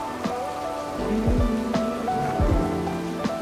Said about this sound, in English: If you've never experienced tropical rain, it comes in fast and the downpours are incredibly heavy.